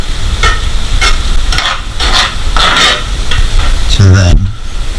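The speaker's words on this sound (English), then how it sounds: "To give that a stir around." Food stirred around in a hot pan, with a run of loud, close scraping strokes over a steady frying sizzle.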